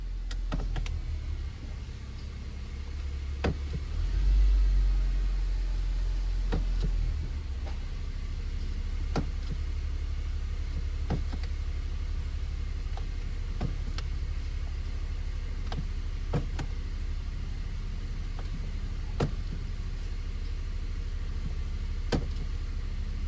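A 2006-2011 Honda Civic with an automatic transmission idles with a steady low engine rumble while the shifter is moved through the gears, with faint clicks and clunks scattered throughout.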